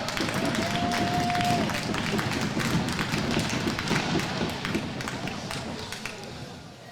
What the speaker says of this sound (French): Applaudissements pour Paul.